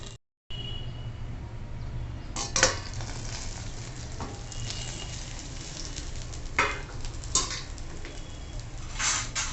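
Raw banana vegetable sautés in a pan with a steady close sizzle, broken by a few sharp scrapes and clinks of a spoon stirring against the metal.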